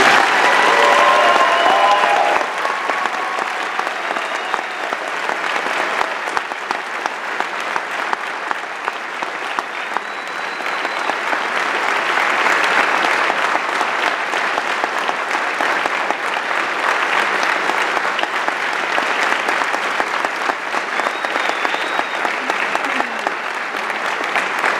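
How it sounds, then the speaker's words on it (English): Sustained applause from an audience at a school senior stage event for a teacher, a dense, steady wash of many hands clapping that lasts a long while without letting up. "How about a round of applause for my fabulous colleague?"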